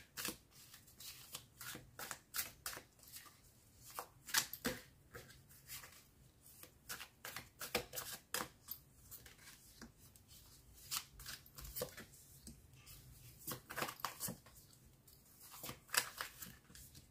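A deck of cards is shuffled for a card reading, a close series of crisp riffling and flapping bursts repeating irregularly throughout, fairly quiet and with no voices.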